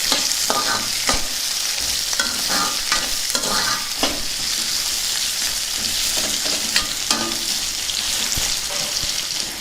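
Amla pieces, green chilies and tamarind stirred in a frying pan: a continuous close sizzle with repeated scraping and clinking strokes of the spoon throughout, no voices.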